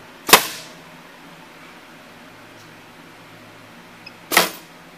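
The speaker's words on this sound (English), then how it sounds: "We drop the clamp." Two sharp mechanical clacks, one near the start and one about four seconds later, from the clamp dropping on a CEDAR Dahao SP520 sewing machine, with near silence between them.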